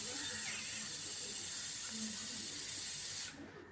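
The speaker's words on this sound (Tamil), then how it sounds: "இப்போ பார்த்திங்கன்னா 7 விசில் வந்துருச்சு" A pressure cooker cooking sambar releases steam as a loud, continuous hiss close by, holding for about three seconds before cutting off abruptly.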